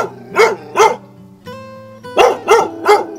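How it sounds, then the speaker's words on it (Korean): A dog behind a residential fence barks loudly in pairs of sharp, close barks, five in all, with a brief pause between the groups. "담장 너머까지 개 짖는 소리가 요란합니다"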